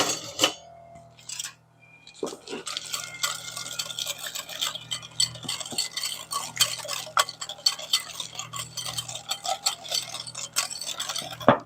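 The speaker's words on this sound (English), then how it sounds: "We're going to give that a quick whisk." A whisk stirring chicken salad dressing with sugar in a bowl, making rapid light clinking and ticking against the sides in a steady, close run after a brief pause, with no talking.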